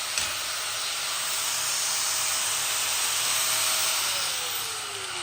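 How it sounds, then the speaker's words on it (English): Grinder running in a mechanic's workshop, a steady loud high-pitched whine and hiss held for several seconds, its tone dropping slightly near the end. "Look at the grinder."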